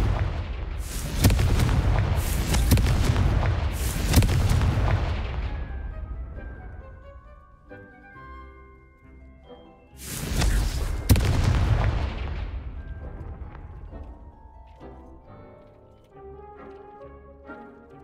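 Confringo blasting spells go off in Hogwarts Legacy: a rapid run of three loud booms, a quieter stretch with ringing game effects, then two more blasts whose echoing tails fade out.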